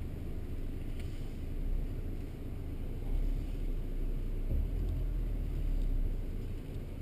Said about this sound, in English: So now you can hear the huge difference in the engine from the other one.